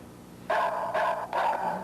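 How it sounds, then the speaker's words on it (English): Electronic barking-dog burglar alarm gadget set off by motion, giving three loud synthetic barks in quick succession, each a sustained tone-like woof over a faint background hum. "if a burglar comes in and walks in front of that, it starts barking"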